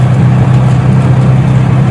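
An auto rickshaw runs along a quiet early-morning road on a foggy morning, its small engine droning in a steady, close, loud hum with no speech over it.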